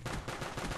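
Rapid, loud gunfire from an M1911 pistol in a video game, a burst of closely spaced shots filling a brief moment with no talk.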